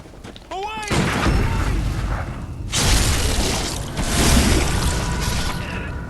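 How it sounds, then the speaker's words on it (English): A cannon fires in the dark fantasy action game Bloodborne, in the Forbidden Woods, giving loud, heavy booming blasts with sustained rumbling and debris-like crashes, following a brief creature cry. "Fire the cannon."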